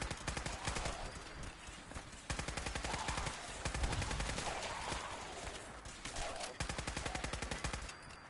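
Gunfire in the video game Fallout 4, rapid bursts of repeated shots in quick rhythmic volleys with brief pauses between, loud and fairly close across the whole stretch.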